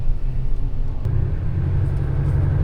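A car drives a detour through village roads around a closed motorway, giving a steady, close low-pitched rumble from inside the cabin that continues without a break and with no talking.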